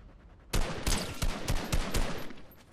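A burst of gunfire in the video game Fortnite, about seven sharp shots in quick succession, loud and close, after a quiet opening.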